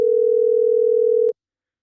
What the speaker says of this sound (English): We're ringing you.